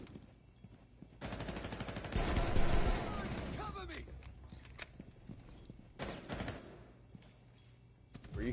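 Bursts of game gunfire from Rainbow Six Siege, rapid volleys of shots with a loud dense stretch in the middle, over faint in-game footsteps and background noise.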